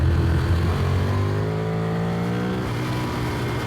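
Loud, close engine roar from a modified Ducati Streetfighter 1098 S, a tuned 155-horsepower roadster under 200 kg, accelerating hard with a pitch climbing steadily through a gear before a shift and renewed pull.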